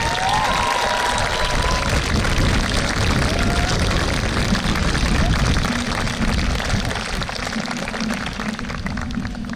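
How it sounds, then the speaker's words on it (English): Graduates at an outdoor high school graduation ceremony stand and applaud, a broad, continuous wash of clapping and crowd noise holding steady throughout, with a low engine-like rumble underneath. "Graduates, please take a moment and stand and applaud the folks that supported you to get here."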